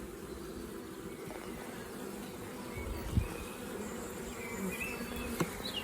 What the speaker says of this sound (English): There's a lot of bees on this one.